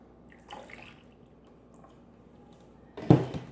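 Watermelon margarita is poured into glasses over ice, with faint splashes and then a louder, brief close-up gush and clink near the end.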